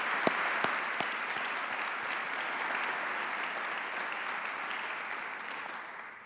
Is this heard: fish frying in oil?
no